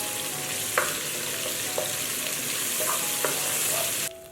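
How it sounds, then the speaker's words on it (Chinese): Garlic chili sauce fries in oil in a wok with a steady, moderate sizzle, broken by a few light scrapes of a stirring utensil, before the sound cuts down sharply near the end, with no voices. "锅内倒油，放入蒜蓉辣酱，"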